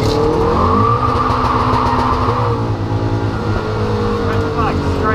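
Toyota GT86 drifting around Snetterton circuit on a dry track, its engine droning loud and close with shifting revs and sliding pitch throughout, steady and unbroken.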